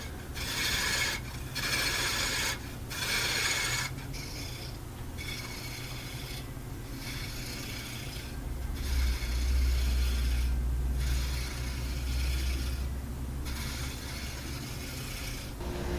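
A solid piece of wood spinning on a lathe while being shaped with a spindle gouge, a steady rubbing, rasping cut with a low motor hum, broken by regular brief pauses.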